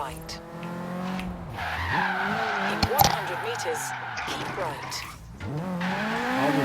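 A BMW driven in the racing game Forza Horizon 3 growls steadily, with tire squeal and skidding rising around the midpoint, all under continuous conversation between players.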